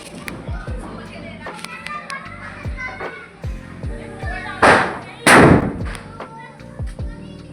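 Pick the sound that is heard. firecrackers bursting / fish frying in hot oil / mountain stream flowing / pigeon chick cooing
firecrackers bursting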